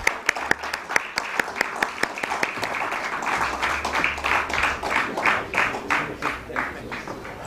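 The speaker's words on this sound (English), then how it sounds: "Let's give a huge round of applause for the Ad Factors team" A crowd at a company listing ceremony claps for the Ad Factors team. A few sharp, evenly spaced claps come first, then dense applause swells and carries on steadily, fairly loud and close.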